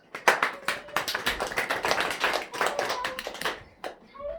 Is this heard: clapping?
yes